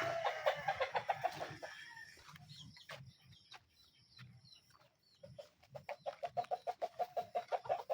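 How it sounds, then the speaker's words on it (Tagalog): Chickens cluck nearby beside rice fields in quick repeated bursts, fading to quiet rustling in the middle before a rapid, rhythmic clucking run returns. "Manok."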